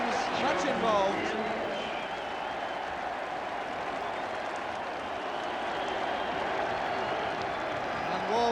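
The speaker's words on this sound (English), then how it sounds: "And Walsh taking the applause of the crowd" A football crowd at a Wales v England match applauds a goal, a broad, steady wash of clapping and crowd noise with a commentator talking over it.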